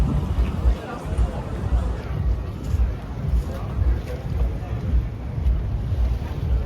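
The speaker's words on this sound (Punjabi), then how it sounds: "ਪਾਣੀ ਪੂਰਾ ਛੱਲਾ ਮਾਰਦਾ ਪਿਆ" Water waves splash and slap against a moving boat, heard as a steady, loud rush under continuous wind buffeting the microphone and a low rumbling drone.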